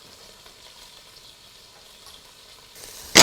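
Curry vegetables fry on high heat in a pan, a soft steady sizzle that swells into a loud burst of hissing and stirring at the end.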